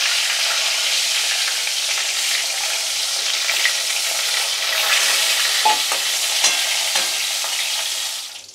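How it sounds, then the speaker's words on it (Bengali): Pointed gourds (parwal) fry in oil with a loud, steady sizzle and a few scraping stirs near the end, close up and without speech. "বাকি পটলগুলো দিয়ে দিলাম ভাজার জন্য"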